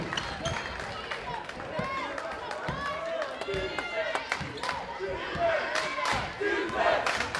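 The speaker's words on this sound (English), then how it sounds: "Fans cheering on for defense now" Basketball crowd in a college gym cheering for defense, a loud, continuous roar of voices and shouts with scattered claps and sneaker squeaks, building toward the end, with an announcer talking over it.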